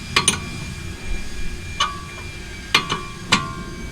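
Sharp metallic clicks and clinks ring out as a wrench works on a 19 mm tie rod nut on a Toyota Yaris, a handful of separate close strikes spaced irregularly over a low background.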